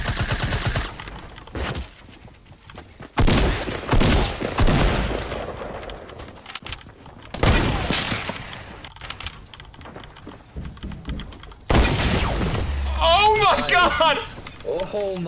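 Sniper rifle shots from Fortnite crack out in sharp, loud bursts, mixed with game effects while a player talks excitedly over them.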